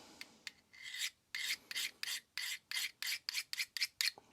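A Magnacut Funayuki knife drawn across a King Hyper 1k whetstone, handheld: a steady series of about a dozen close, gritty scraping strokes, quickening toward the end, with no voices.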